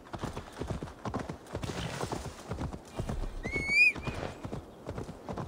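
Horse hooves in Assassin's Creed Valhalla clop in a steady, rhythmic gait, fairly close and moderately loud, with a short bright whinny rising near the middle.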